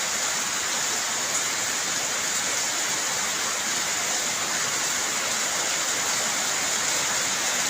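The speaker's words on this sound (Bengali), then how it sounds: "বৃষ্টির শব্দ আপনারা শুনতে পাচ্ছেন" Heavy rain drums on a tin roof overhead, a loud, close, unbroken roar of dense patter that stays constant throughout with no voices.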